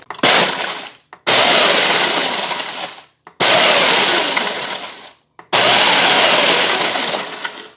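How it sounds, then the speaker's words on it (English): Loud Ninja blender bursts crushing crunchy ginger snap cookies into powder: three long grinding pulses separated by short silences, harsh and close. "we're gonna do that with our Ninja blender"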